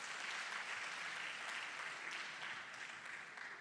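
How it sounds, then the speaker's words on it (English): Sustained applause from an audience honoring award recipients at a conference ceremony, a dense, steady clatter of many hands that stays loud and even for the whole stretch, with no talking over it. "Let us all give them a big round of applause to all our achievers."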